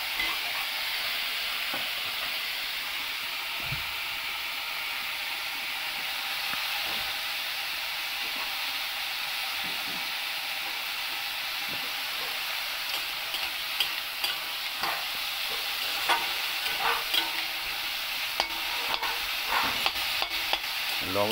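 Onion and bottle gourd peels sizzle steadily in a hot pan, a continuous broadband frying hiss with occasional scraping stirs growing more frequent toward the end; no one speaks.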